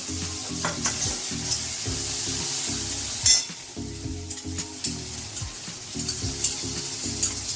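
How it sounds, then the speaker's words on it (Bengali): Yogurt being stirred into spice masala in a hot pan gives a steady sizzle, with rhythmic scraping strokes and occasional utensil knocks, close and clear with no talk. "দই দেওয়ার সঙ্গে সঙ্গে ভালো করে নাড়তে হয়"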